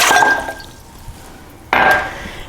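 About one and a half cups of warm water, around 105 degrees, is poured into a stand mixer bowl for rye bread dough: two short splashing pours, nearby and fairly loud, separated by a quiet pause.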